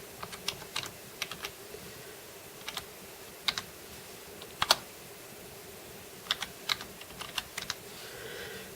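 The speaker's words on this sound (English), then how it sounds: "I'm just going to type up something real quick." Keys tap on a computer keyboard in short, scattered clusters with pauses between them, close and fairly quiet.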